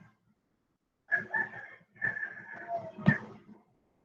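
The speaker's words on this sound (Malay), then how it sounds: "Dengar bunyi ayam." A rooster crows loudly in a long drawn-out cock-a-doodle-doo, broken into a few rising and falling segments and ending in a sharp final note, with quiet surroundings before and after.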